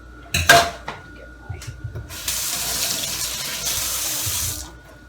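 Water gushes from a kitchen tap into the sink while dishes are washed, with a few clinks of dishware first and then a steady close stream that cuts off at the end.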